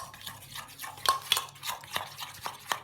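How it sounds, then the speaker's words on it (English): Tahini being stirred with a little water in a bowl, a quick series of scraping, clinking strokes of a utensil against the dish, close and fairly quiet, with no talking. "And what you do is you add water, not too much, a little bit of water, and stir."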